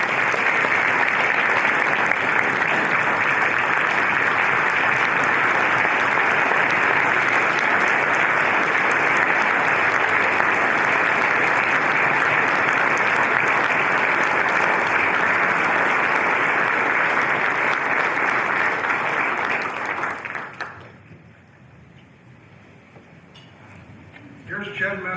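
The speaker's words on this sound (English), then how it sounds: "Let's give Mike a round of applause." An audience at an award presentation applauds loudly and steadily for about twenty seconds, a dense wash of clapping close by that then drops away abruptly.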